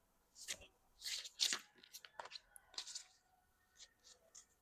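An oracle card drawn from a deck, with quiet rustling, sliding and papery flicks in short irregular bursts, close and soft against near silence.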